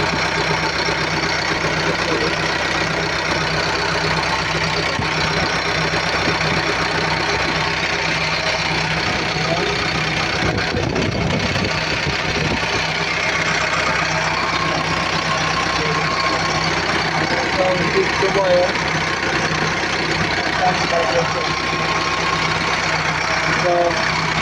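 A CAT 580 telehandler diesel engine running at idle while suffering from low power, a steady rumbling drone that holds throughout with a brief heavier surge near the middle, close and fairly loud.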